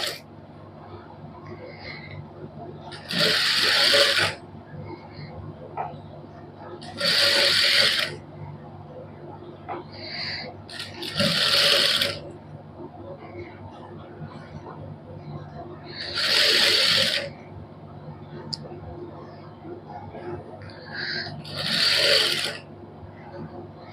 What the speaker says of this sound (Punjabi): ਇਸੇ ਤਰ੍ਹਾਂ ਹੀ ਦੂਸਰੀ ਲੈਸ ਦੇ ਉੱਪਰ ਸਲਾਈ ਲਾ ਦਾਂਗੇ